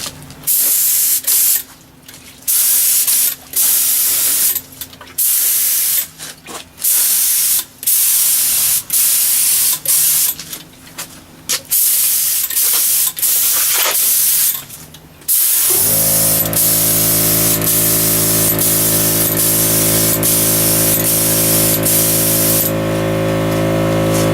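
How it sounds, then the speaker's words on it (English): A spray gun hisses in short bursts with brief pauses while spraying lacquer onto a wooden DVD player shelf, then settles into a long steady spray over a low mechanical hum, loud and close. "I'm ready to start spraying the finish coat"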